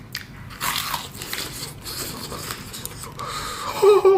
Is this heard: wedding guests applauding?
no